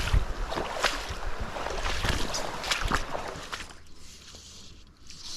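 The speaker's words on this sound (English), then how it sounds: "It's a bit windy, I can hear the wind" Gusty wind beside a river buffets the microphone in rumbling bursts, strongest early on, then easing to a quieter outdoor hiss with no one speaking.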